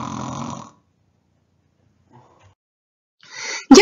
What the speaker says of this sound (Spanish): Tal vez así deje de roncar y nosotros podamos dormirnos otra vez.